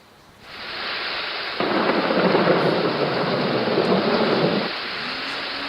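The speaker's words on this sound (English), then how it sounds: "Such a storm outside." A thunderstorm with heavy rain pouring down steadily, a loud rumbling roll of thunder swelling over the downpour for several seconds before easing back to rain alone.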